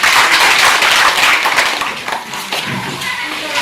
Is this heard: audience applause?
yes